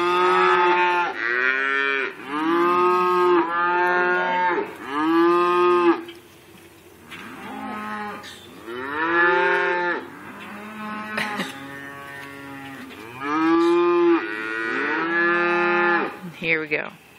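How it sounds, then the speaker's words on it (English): Cattle on a farm moo repeatedly and close by, long drawn-out calls overlapping from several animals with short pauses between bursts. "Me and my phone were freaking the cows out, which is why they were walking away."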